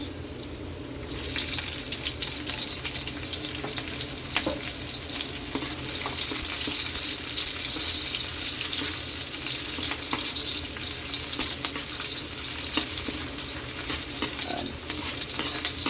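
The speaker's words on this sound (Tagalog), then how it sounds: "Fried muna natin yung bawang" Garlic fries in a pan for adobong sitaw, with a continuous hissing sizzle and repeated scraping clicks of stirring, close and steady throughout with no voices.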